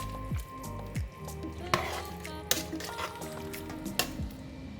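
A pot of vegetable stew with ground beef and oyster sauce is stirred, giving soft wet squelches and faint sizzling with a few light scraping knocks against the pot, quiet and close.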